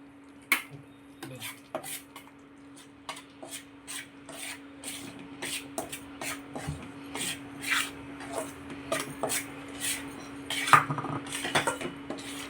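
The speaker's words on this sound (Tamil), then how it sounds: "இப்போது இந்த நெய்யில் இந்த ஒரு கப் ராகி மாவை சேர்த்து நம்ம ஒரு ரெண்டு நிமிஷம் கிட்ட வறுத்து எடுத்துக்கலாம்" Ragi flour roasted in ghee in a pan over low heat, with a utensil scraping and stirring against the pan in irregular close strokes that grow busier toward the end, and no talk.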